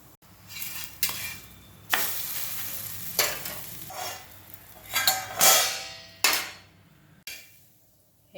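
Fasting thalipeeth flatbread is flipped and roasted on a pan, with bursts of frying sizzle and sharp scrapes and clinks from a spatula at irregular intervals.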